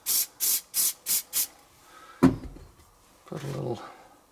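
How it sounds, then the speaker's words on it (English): Five short hissing bursts from an aerosol adhesive spray can in quick succession, used on model landscaping, followed by a thud and a brief rustle nearby. "Give it a spray with the adhesive."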